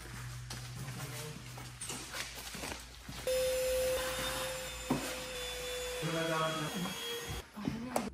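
A vacuum cleaner runs steadily near a car in Saskatchewan, its whine shifting in pitch as the nozzle moves, with occasional knocks and rubbing.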